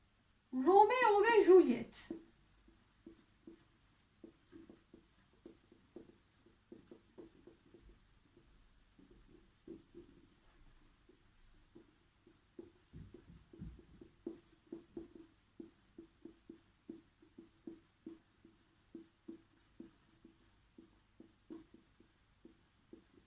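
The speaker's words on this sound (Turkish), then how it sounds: "Hemen yazıyorum arkadaşlar" Handwriting on a board or paper, soft scratching strokes in a steady irregular rhythm, faint and close, following a short burst of louder noise at the start.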